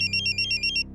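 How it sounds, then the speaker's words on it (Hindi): A mobile phone rings with an incoming call: a bright, repeating electronic ringtone pulsing in quick even beats for about a second, loud and alone over a low steady background. "देखो मेरे जानू का फोन भी आ गया।"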